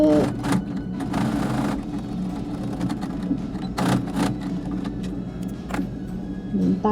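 A sewing machine stitches a homemade fabric face mask, its close motor whirring steadily with brief louder bursts as the stitching speeds up and slows.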